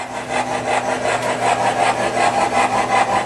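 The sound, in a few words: model train SD40-2 locomotive starting up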